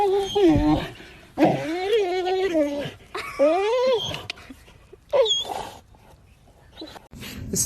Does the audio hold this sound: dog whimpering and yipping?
yes